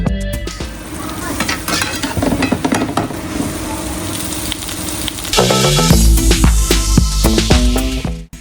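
Veg chow mein stir-fried at a street food stall in Delhi near India Gate: loud, dense sizzling with rapid clanking spatula strokes against the wok, intensifying into heavier metallic scraping and hissing toward the end.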